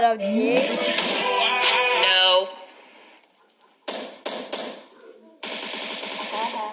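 Automatic gunfire in the video game PUBG: loud, rapid bursts of shots, close and punchy, separated by short gaps, with a voice briefly heard at the start.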